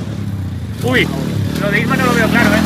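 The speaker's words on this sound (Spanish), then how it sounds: "Isma con mi pitbike y Lichu con la moto" A pit bike and a motorbike rev during motocross jumps, an engine note rising and falling under a man's close speech.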